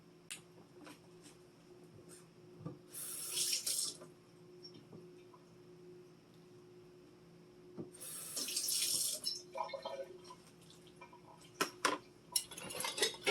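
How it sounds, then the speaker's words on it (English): Water poured into Dollar Tree brownie mix in a bowl after vegetable oil, heard as two short splashing pours several seconds apart over a quiet kitchen background with faint clicks. "Add the water."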